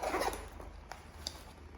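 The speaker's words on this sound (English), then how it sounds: "I'll zip that up again" A zip runs along a pocket on a Mulberry Loopy Leopard Alexa leather handbag, a short close rasp at the start followed by faint handling clicks.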